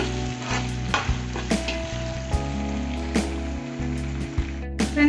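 Green chillies frying with ginger garlic paste for kuska, a steady loud sizzle of hot oil with repeated close stirring scrapes across the pan.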